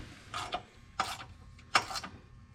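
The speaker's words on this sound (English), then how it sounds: "We're just bolting this solenoid bracket on." A few short metallic clicks and ratcheting bursts from a wrench bolting a solenoid bracket onto a 2010 EZGO TXT PDS golf cart, spaced irregularly and fairly quiet.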